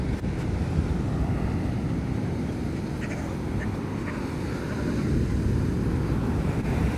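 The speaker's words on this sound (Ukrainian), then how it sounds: "Давайте будемо просто слухати океан." Ocean waves wash onto a beach in Kerala, a steady broad roar of surf with wind buffeting the microphone and a few faint distant calls.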